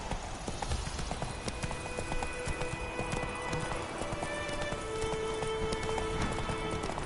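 The horse Roach gallops in The Witcher video game, its rhythmic hoofbeats clopping steadily throughout with a brief whinny. Low game ambience and faint tonal music sit underneath.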